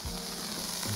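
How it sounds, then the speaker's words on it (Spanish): Roast beef searing in a hot pan sizzles and crackles loudly and steadily, close up, with no talk over it. "A ver, vamos a sellar bien esto."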